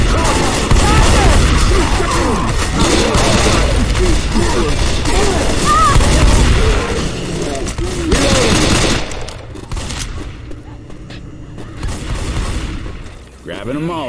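Gunfire in the zombie shooter Left 4 Dead 2, dense rapid shots and booms sustained for most of the clip, with excited voices talking over the chaos and a quieter stretch near the end.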